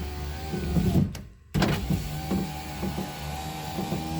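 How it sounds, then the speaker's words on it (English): An electric car window motor whirs steadily as the glass moves, with a brief pause partway through, close and moderately loud. "Let's go ahead and put the window up."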